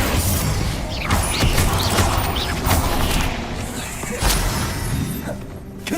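Bombarda blasting spell in Hogwarts Legacy, a dense crashing, shattering burst of noise mixed with other combat sounds. It is loud and continuous, with impacts near the start and again around the middle, and voices talk over it.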